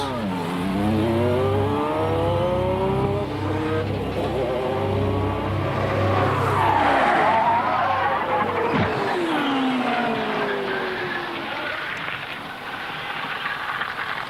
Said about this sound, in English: Going into turn 1, Mansell lost control of his car and hit the wall at 180 miles an hour